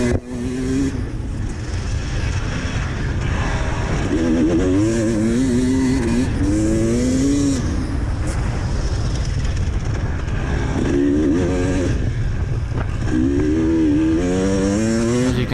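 Dirt bikes lap a hard, slippery, rut-free motocross track, engines loud and close, revving up and down through repeated rising and falling runs with constant high-pitched buzz throughout, no voices.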